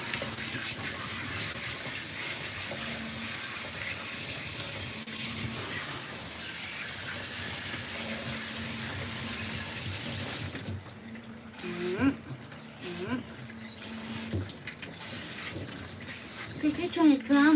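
Tap water runs steadily into a bath while a cat is rinsed, a continuous close splashing stream that thins and breaks up near the end, with a person talking over it.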